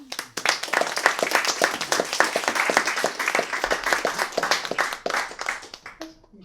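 An audience at a book release event claps and applauds after a speaker, a dense, steady burst of close hand claps that fades out near the end.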